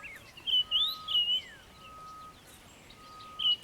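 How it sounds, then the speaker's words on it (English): A black-crowned tchagra calls amid morning birdsong, giving clear whistled phrases in short bursts, with a steady thin tone and other birds chirping softly behind. "Black-crowned chagra is calling as well."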